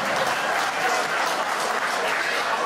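Steady applause from a wedding crowd, dense clapping that holds even throughout, with a voice faintly underneath.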